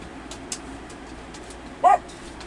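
A single dog barks once, short and fairly close, over a quiet indoor background.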